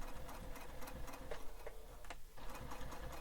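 A sewing machine back stitching across the hardware end of a bowler bag, a quiet, steady rapid ticking run of needle strokes with a brief pause near the end, no voices.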